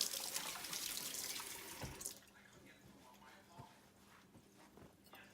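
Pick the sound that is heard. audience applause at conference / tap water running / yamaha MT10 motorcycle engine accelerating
tap water running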